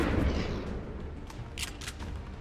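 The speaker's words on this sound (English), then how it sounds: "Since that guy's out in the open, we'll just try and shotgun him" Shotgun blast in XCOM 2: one heavy, booming shot at the start with a rumbling decay, followed by a few sharper crackling impacts and debris.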